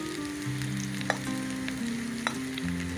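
Stuffed okra masala frying in a pan gives a steady, close sizzle with a couple of light taps from stirring, all without voices.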